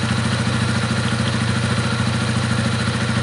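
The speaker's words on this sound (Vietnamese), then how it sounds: "rồi bật khóa lên, nổ máy" A scooter engine, restarted via its key switch, idles at a close, loud, steady rhythmic putter with a slight mechanical clatter.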